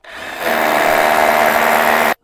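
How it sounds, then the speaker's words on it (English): A power drill bores a hole in fence wood, a loud, steady high-pitched whir that starts abruptly, runs evenly for about two seconds up close, then cuts off. "So what we're going to do now is just drill that hole a bit further."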